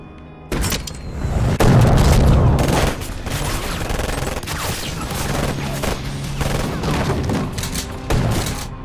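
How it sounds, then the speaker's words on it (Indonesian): Loud gunfire in an action film battle against a motorcycle gang, bursts of rapid shots and heavy booming impacts repeating close by across the scene, with no talk. "dia dikejutkan dengan suara tembakan yang begitu keras"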